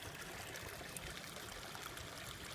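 Water drains out of a homemade plastic bottle minnow trap set on a rock, making a continuous soft trickle and splatter that stays even throughout.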